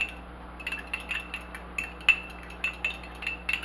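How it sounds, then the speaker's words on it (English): Small metal clinks of a utensil tapping and scraping a bowl while sugar is stirred into a biscuit topping, coming in short irregular bursts close by with no talking. "Just going to mix that together"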